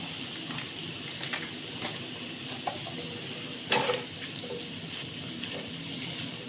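Chicken tikka with a tablespoon of tikka masala sizzles steadily in a pan as it is stirred, with soft scraping strokes and one louder clatter near the middle.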